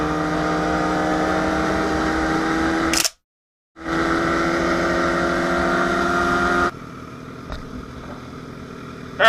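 A group of Suzuki GSX-R motorcycles cruise through Riverbank, heard as a loud, steady engine drone with harmonic tones from a close rider. It cuts out briefly, then returns and drops to a quieter hum.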